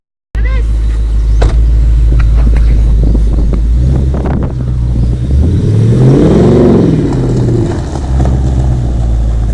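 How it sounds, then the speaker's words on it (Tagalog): A Ford Mustang GT 5.0 drives in sports plus mode, its V8 engine rumbling loudly inside the cabin and swelling through a rising rev and gear change, with wind noise and voices talking over it. "I get to experience the ride in a Mustang."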